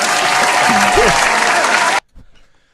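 A canned applause effect from a soundboard plays as a loud, even wash of clapping and crowd noise for about two seconds, then cuts off abruptly. A voice is heard over the clapping and again just after it stops.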